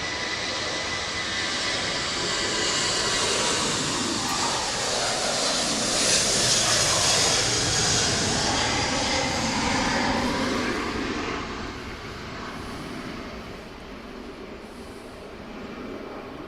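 Ryanair airliner bound for Belfast passing overhead, a broad roaring jet rumble that swells to a peak, then fades as it moves off into the distance.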